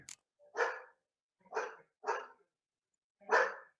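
A dog barks four times in sharp, separate bursts spaced about a second apart, fairly close and loud, with silence between each bark and no talking.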